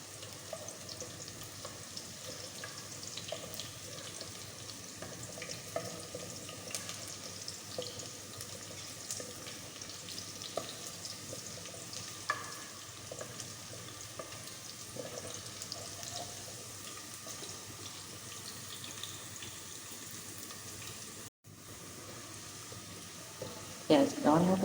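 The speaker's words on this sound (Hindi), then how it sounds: "प्याज को ब्राउन कर लेते हैं।" Onions browning in hot oil in a pot for aloo tahari give a steady, fairly quiet frying hiss with faint clinks, ending in a brief louder knock.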